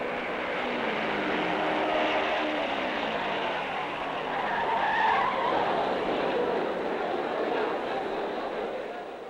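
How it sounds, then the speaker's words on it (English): A race car at the 1958 Indianapolis 500 skids and spins out on the southwest turn, a broad sustained tire screech and engine roar under an announcer's commentary. "Another spin on the southwest turn."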